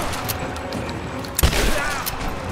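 Gunfire rattles through a battle in Rise of the Tomb Raider, a dense steady crackle of shots with one heavier close burst midway, continuing under background noise.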